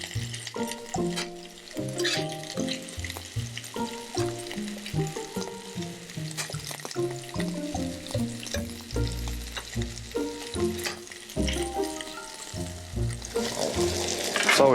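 Carrot pieces pan-frying in oil until browned, with a steady busy sizzle stirred and shifted repeatedly under layered music-like tones, close and moderately loud throughout.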